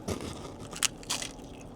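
Crunchy sushi roll with crispy rice balls and spicy ahi being bitten and chewed at a sushi spot. A few brief, close, crackly crunches come in short bursts, with no talking.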